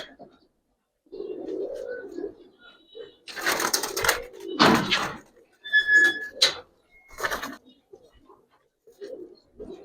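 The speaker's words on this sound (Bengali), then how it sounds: "শান ভাই এই একটা নর কবুতর মাশাআল্লাহ, একবারে পুরান জাতের" An old-breed male Giribaz pigeon coos in several short, close bursts between pauses, mixed with handling rustles, while people talk nearby.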